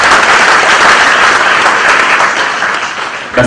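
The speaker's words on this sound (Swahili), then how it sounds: "Tumpigie Reverend makofi mazuri." A church congregation at a service in Thika, Kenya, claps loudly for the reverend, a dense burst of applause from many hands that tapers off near the end.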